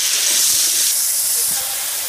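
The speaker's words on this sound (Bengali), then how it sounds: "এবার সুন্দর করে কচু আর আলু একসঙ্গে আমি ভালো করে ভেজে নেব।" Potato and taro pieces frying together in a pan give a loud, continuous hissing sizzle that eases slightly toward the end, heard up close, with faint movement underneath.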